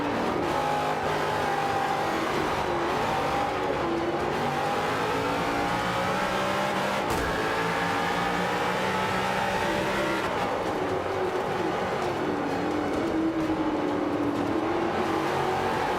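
A car in Forza Motorsport 5 runs with a continuous engine roar and a high supercharger or turbocharger whine that rises and falls as it accelerates and shifts, steady throughout.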